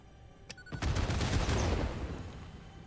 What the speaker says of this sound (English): Lots of explosions and lots of destruction,